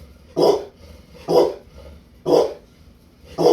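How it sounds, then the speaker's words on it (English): A pit bull barks four times at an even, steady pace, each bark deep, loud and close, with quiet pauses between them. "That's a big, scary bark, isn't it?"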